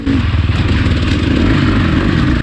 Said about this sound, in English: KTM's coming through that section as well